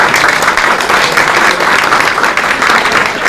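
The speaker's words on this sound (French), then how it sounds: "On peut les applaudir." Close, loud applause from a gathering at an archery blessing ceremony, a dense, even wash of hand claps that holds steady throughout without pause.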